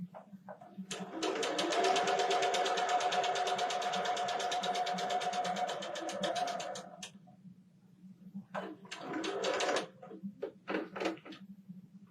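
Sewing machine stitching a quilt seam for a flower block, a steady loud whir of rapid needle strokes running for about six seconds, then a shorter second burst of stitching after a pause, over a constant low motor hum.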